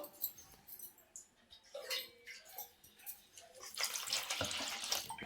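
Water trickles and splashes into a thick mixture, building to a louder, steadier pour toward the end, with no voices.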